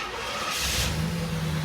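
A KITT replica car's engine cranks and catches, then settles into a short, close running rumble.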